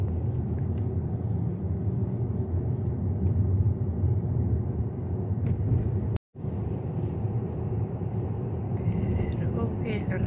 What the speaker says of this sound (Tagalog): Boring ang biyahe dahil sobrang traffic.